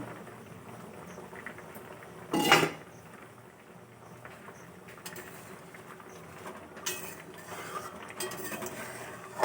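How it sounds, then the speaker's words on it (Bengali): A lid lifted off a cooking pot of white-mustard fish-roe and mango curry: one sharp, close metallic clatter in an otherwise quiet kitchen, then faint scattered clinks. "ঢাকা খুলে দেখবো"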